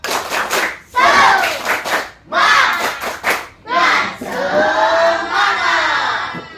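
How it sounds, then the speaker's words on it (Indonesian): Sixth-grade primary school pupils perform a tepuk semangat, a rhythmic group clap chant, shouting loud chanted bursts together with sharp claps in a patterned sequence, close and energetic. "Sekarang tepuk semangat."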